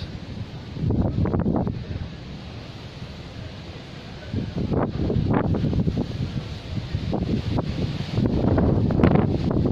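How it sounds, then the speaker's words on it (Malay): Strong wind gusting through a Sahara desert dust storm, a broad roaring rush that surges in waves and grows louder toward the end, close to the microphone and buffeting it. "angin"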